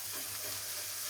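Garlic paste gently frying in foaming mustard oil gives a soft, steady sizzle at low level, with a brief louder rattle near the end.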